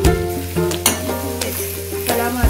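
Onion frying in a pan for butter chicken, a steady close sizzle with stirring scrapes and clinks of the spoon against the pan, no one talking.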